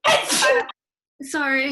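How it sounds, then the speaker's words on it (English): A person sneezes close up, a sharp burst that is followed after a short silence by a second voiced sound, with a brief word spoken. "I'm going to sneeze."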